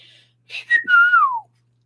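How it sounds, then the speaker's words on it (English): A man whistles once, with a couple of short chirps leading into a long clear note that slides steadily downward, loud and alone against silence. "whistled a third time."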